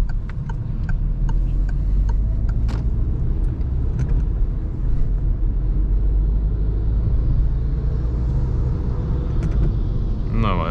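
A car driving through a town and accelerating to 50 km/h in fourth gear, heard from inside as a steady loud engine and road rumble, with faint ticking from an indicator early on and no speech.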